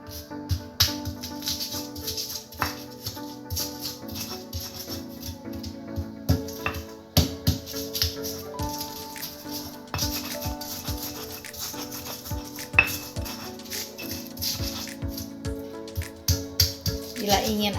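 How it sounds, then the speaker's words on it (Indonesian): Shallots, garlic, ginger and turmeric are pounded and ground with a mortar and pestle, giving repeated close, dull knocks and scrapes in an uneven rhythm under ongoing talk. "Saya ulek bawang merah, bawang putih, jahe, dan kunyitnya."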